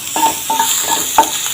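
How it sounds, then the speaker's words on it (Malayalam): Ginger garlic paste sautéing in a pan for masala macaroni, a spoon scraping through it in four evenly spaced strokes over a loud, continuous sizzle, with no talking. "ഇനി അത് നന്നായി ഒന്ന് നമുക്ക് വഴറ്റി കൊടുക്കാം"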